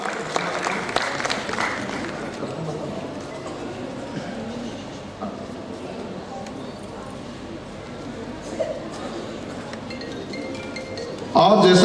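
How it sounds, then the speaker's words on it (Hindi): Prolonged applause from an audience at a Bundeli cultural festival prize ceremony, a dense, fairly even wash of clapping lasting the whole stretch, with faint voices mixed in. "तालियां बजाकर अभिनंदन करें वर्तिका नामदेव का"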